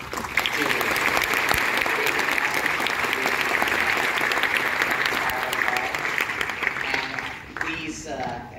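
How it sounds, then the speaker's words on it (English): An audience at an interactive dialogue with a Harvard CS50 professor gives a long round of steady applause that fades near the end as a voice begins. "please join me in giving another round of applause"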